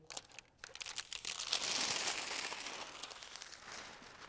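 Plastic backing film peeled off a temporary floor graphic, close and fairly quiet, a crinkling, tearing rustle that swells after a brief pause and trails off steadily.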